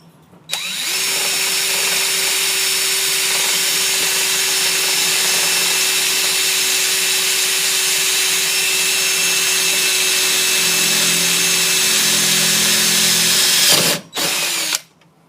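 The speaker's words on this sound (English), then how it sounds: "And then you're going to go ahead and drill it out." A power drill boring a hole in a Jeep dashboard runs loud and continuous for about thirteen seconds, then cuts out, followed by a short second burst.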